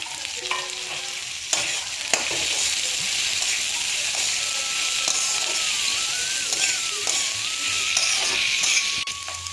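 Par-boiled green peas sizzle in ginger garlic paste in a pan, a steady close frying hiss with occasional clinks and stirring scrapes.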